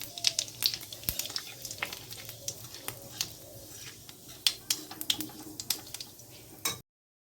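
Cumin seeds hit hot oil for tempering, crackling and popping in sharp, irregular bursts over a soft, steady sizzle.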